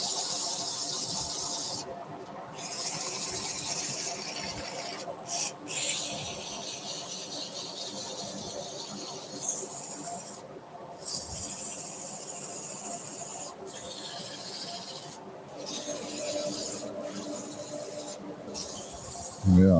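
Sandpaper rubbing a wooden platter spinning on a woodturning lathe, a continuous hissing scrape with a squealing edge, briefly broken by short gaps, close and steady.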